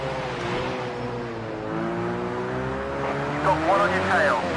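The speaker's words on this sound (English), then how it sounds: "Car is sliding constantly, all the time in that corner." A race car in Project Cars 2 sliding through a wet corner, its engine droning in rising harmonic tones before a brief tire squeal near the end, with someone talking over it.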